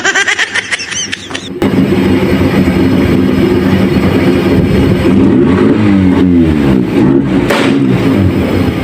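A Kia Pride EFI engine revs roughly and loudly, misfiring and failing to rev cleanly, with sharp backfire pops from the exhaust breaking through the steady mechanical rumble.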